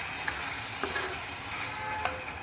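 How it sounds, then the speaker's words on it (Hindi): Vegetable masala of onion and tomato fries in a pan, a steady dense sizzle with occasional soft scrapes and clicks from stirring, close and continuous with no talking. "तो ये सब्जी का मसाला तैयार हो रहा है एक साइड।"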